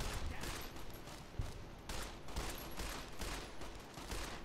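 Gunfire rings out in the video game Fallout New Vegas as a dense, continuous barrage of rapid shots and crackling blasts. It stays at a steady, fairly loud level throughout, with no clear gaps between reports.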